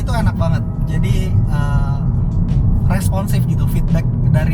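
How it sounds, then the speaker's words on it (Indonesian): Inside a moving Mazda 3 hatchback, a steady low rumble of engine and tire noise fills the cabin while a person talks over it. "Suara mesin juga masih masuk, suara ban juga di sini masih masuk"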